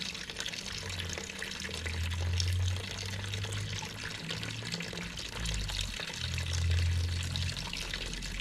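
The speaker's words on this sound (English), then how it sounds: "I'll go dump the bucket outside" Water from a bucket being dumped outside, a steady close pour with low sloshing gushes that swell and ease twice.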